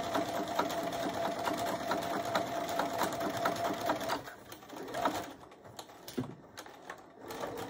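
A noisy home sewing machine stitching oval placemats, a continuous close mechanical whir and clatter that runs steadily, then turns more irregular with stops and starts near the end.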